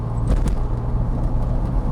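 Low, steady engine rumble and road noise from a Smart Brabus Roadster, a salvaged car, driving on a potholed road, heard from inside with a couple of faint knocks.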